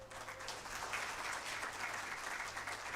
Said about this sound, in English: I think we can amplify the hand clap